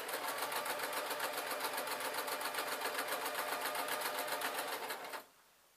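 A sewing machine stitches a summer wrap dress in a fast, steady run of needle strokes, close and continuous for about five seconds before stopping abruptly into near silence.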